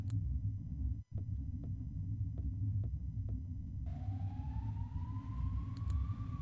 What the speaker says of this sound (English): Is it an ambulance siren?